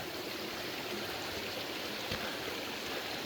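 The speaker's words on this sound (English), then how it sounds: "I like the way they've built a gully there for the water as it comes off." Water rushes down a built gully beside a forest path in Puck's Glen, Scotland, a constant broad watery roar at moderate distance with no speech.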